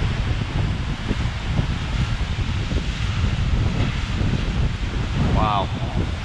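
Steady wind blowing near a waterfall in Oregon's Columbia River Gorge, a constant loud roaring rush buffeting the microphone, with a brief voice near the end.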